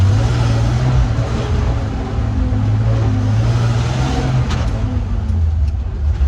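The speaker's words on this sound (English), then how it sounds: "Suddenly the engine flutters down and up." A 1948 Dodge Power Wagon pickup engine runs loud and close, holding a steady rumbling drone that surges and dips slightly as gears are shifted, with no talking.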